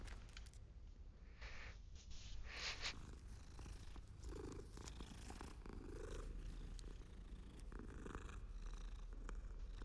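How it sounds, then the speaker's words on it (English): Cat purring in the Hogwarts Legacy video game, a soft continuous rumbling purr up close, quiet and steady throughout with faint background game ambience. "Oh, it's a cat."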